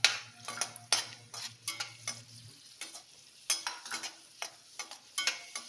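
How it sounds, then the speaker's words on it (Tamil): Black raisins frying in a pan for a dry fruits kesari, a soft sizzle under a series of sharp scraping strokes of a spoon against the pan, about a dozen quick irregular stirs, close and clear, no talking. "இந்த கருப்பு திராட்சை அதையும் நான் வறுத்துக்கிறேன்."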